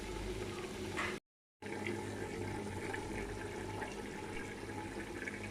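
Water pours steadily into a cooking pot of beef biryani base, a continuous splashing wash with a short gap of silence near the start, fairly close and moderate in level, no voices.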